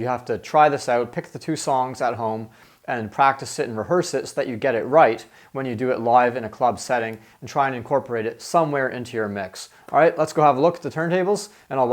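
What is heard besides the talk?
None of the usual background noises is heard.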